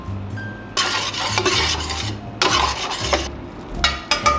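Scrambled eggs with mozzarella get stirred in a frying pan, a utensil scraping and clinking against the metal in uneven strokes over a soft sizzle, close and fairly loud.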